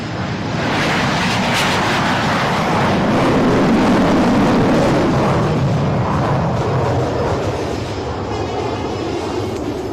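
Jet aircraft from a nine-plane display team take off at the Aero India 2023 air show in Bengaluru, a loud, continuous broadband roar that builds and holds steady throughout.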